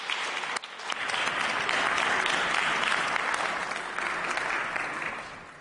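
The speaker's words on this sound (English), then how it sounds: "one final round of applause" Senate members give a final round of applause in the chamber, clapping that swells quickly after a brief pause and holds full and steady before easing slightly.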